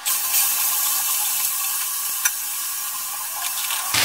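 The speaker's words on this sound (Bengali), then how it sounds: "এই তেলের মধ্যে আমি কেটে রাখা শাপলাগুলো দিয়ে দিচ্ছি।" Chopped water lily (shapla) stems dropped into hot oil in a wok over a high gas flame, giving a loud, steady broadband sizzle with crackling that holds throughout, one sharp pop midway and an abrupt stop at the end.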